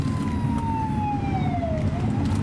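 A fire truck siren wails past at night, a steady falling tone that dips and then climbs, heard from inside a moving car over a low road rumble.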